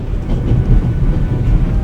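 A train rolls steadily inside a freight car in a video game, a loud continuous low rumble with faint rhythmic clatter and no talking.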